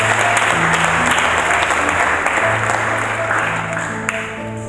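Congregation applauding at an evangelical church service, with dense, loud, sustained clapping from a large crowd that tapers slightly toward the end, while a voice and music carry underneath.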